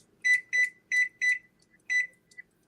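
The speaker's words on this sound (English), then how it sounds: "Y'all hear me cooking. I was setting a timer." A kitchen timer beeps while being set during cooking: five crisp, high electronic beeps in a quick uneven series, then a fainter short chirp, close and alone in a quiet room.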